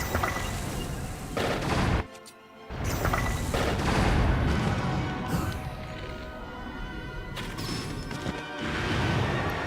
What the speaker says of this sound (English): Bombs. Lots of bombs.